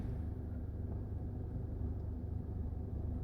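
Cars sit stuck in a heavy traffic jam in Thailand, giving off a steady low rumble of idling engines and road noise throughout, with no voices.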